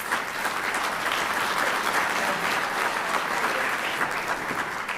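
Sustained applause from a large audience at an elementary school winter concert, dense and steady clapping throughout with no voices standing out.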